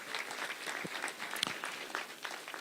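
Faint, scattered clapping from an audience honouring an Olympic gold medallist, quiet and uneven, with a few sharper individual claps.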